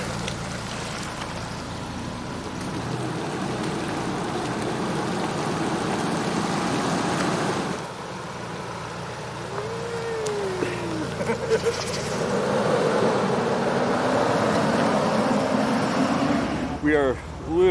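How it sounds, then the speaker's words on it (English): An overland vehicle drives up through a shallow river in Land Between the Lakes, Tennessee, in winter: a continuous low engine drone mixed with rushing, splashing water, steady and moderately near, with people talking over it. "Driving up the river."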